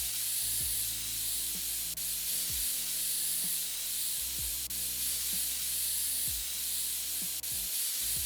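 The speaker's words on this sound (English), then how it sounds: "Let's get our compressed air out first. Let's clean this thing out a little bit." Compressed air blasts dust out of a dirty PC in the PC Building Simulator video game, a continuous spray hiss punctuated by repeated short, soft thumps at roughly one-second intervals.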